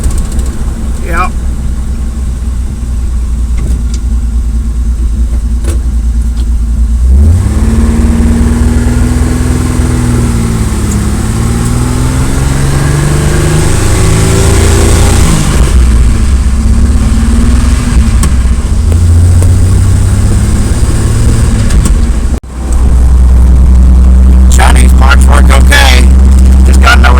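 A 40-year-old Jeep CJ7 engine, run after sitting over winter, idles and revs repeatedly, a loud close rumble that rises and falls with a brief cutout near the end.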